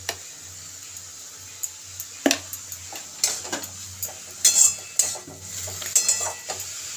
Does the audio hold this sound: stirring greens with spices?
yes